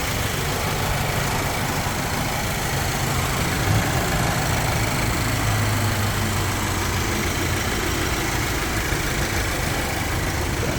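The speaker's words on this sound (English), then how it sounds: "Obviously the boxer engine there too." A 2020 Subaru XV 2.0i boxer engine idles steadily with a low, even hum, heard close and alone for the whole stretch, with no voices over it.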